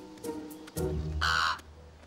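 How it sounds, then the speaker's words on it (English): A raven at an animal rescue gives a couple of harsh, nasal caws, one short and one longer and louder, close by with no talk over them. "The problem is, Rowena crows when she's hungry"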